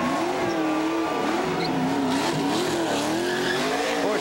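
Race car at Watkins Glen spinning celebratory donuts on the pit stretch after a 2006 Busch Series win, engine revving hard with continuous loud tire squeal, wavering pitch as it circles, close and sustained throughout.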